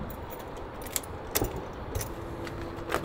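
Keys to a private skatepark jangle in several short metallic bursts, close and fairly quiet, over a low hum of background noise.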